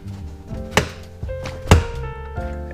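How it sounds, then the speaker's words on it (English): An interior trim piece on a Nissan 240SX pops loose from its clips, giving two sharp plastic snaps over a quiet background, the second one louder. "we should now be able to pop out that interior trim piece"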